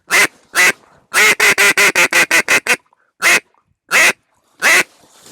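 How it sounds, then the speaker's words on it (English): Loud, close acrylic duck call quacking in a rapid run of eight or so quacks, with a few single quacks before and after. "This right here is an acrylic call, and this is a much louder call."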